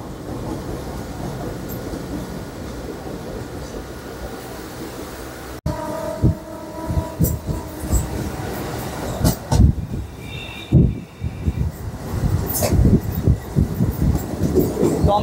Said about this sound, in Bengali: দমদম জংশন ঢুকলো ট্রেন